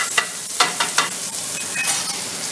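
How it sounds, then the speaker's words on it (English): Onions caramelizing in pork chop grease in a pan on turned-down heat, giving a steady close sizzle and fry with a few brief stirring scrapes from a wooden spoon, no voices. "we're going to use this grease to caramelize the onions"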